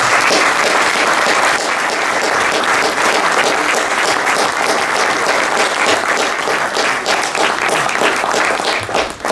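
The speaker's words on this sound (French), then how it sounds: "je vous propose de l'applaudir ainsi que le travail." Sustained audience applause fills a French conference hall, dense and steady clapping from a large crowd lasting throughout, loud and close with no speech over it.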